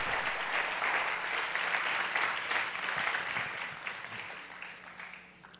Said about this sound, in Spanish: dele un aplauso sonoro al Señor